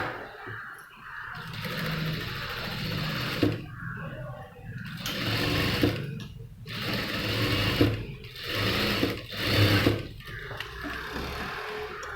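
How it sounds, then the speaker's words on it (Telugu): A sewing machine stitches a saree blouse, running in repeated close, steady bursts separated by short pauses as the fabric is turned, with a faint low hum underneath. "ఈ మొత్తం కార్నర్లో స్టిచ్ లైన్ స్టిచ్ వేసుకొచ్చేసి"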